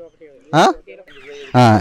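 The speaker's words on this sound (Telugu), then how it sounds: "ఇవి టర్కీ కోళ్ళు." Turkeys call in a farmyard of poultry breeds: two loud, harsh, ringing calls stand out, with fainter clucks and murmurs between them.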